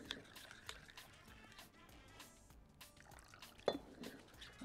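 Water trickles and drips into a thick tahini mixture for a salad, a faint, close liquid sound with a brief louder splash near the end.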